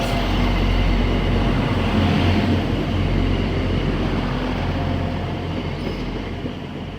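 A class 175 train runs through Crewe station on the West Coast Main Line, a loud, steady rumble of wheels and engine that holds for several seconds and slowly eases off.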